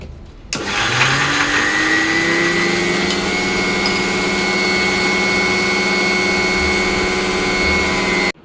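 A kitchen mixer grinder whirs loud and steady, grinding ginger, green chili and cumin with water into a fine paste for solkadi, the motor starting abruptly and running continuously for about eight seconds.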